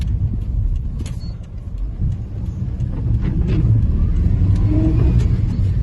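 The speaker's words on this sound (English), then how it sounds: "Clutch is all good, as you can see, we're pulling away, there's no juddering or slipping or anything." Suzuki Jimny 4x4 with a KAP Landmaster conversion pulling away across a field, its engine a steady low rumble that swells slightly as it gains speed, heard close without talk.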